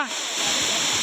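A waterfall about 30 to 35 feet high at a village dam in the Konkan countryside, a steady loud roaring rush of falling water close by, continuous for the whole moment.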